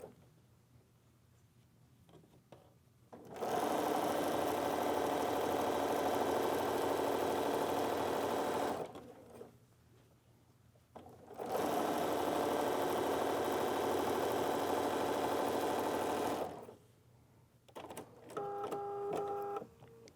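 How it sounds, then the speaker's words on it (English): Sewing machine stitching piping cording onto quilt fabric, running in two long steady bursts of even mechanical drone separated by brief pauses, with a short whirring sound near the end. "I simply begin to sew, putting that cording right down the groove of that foot."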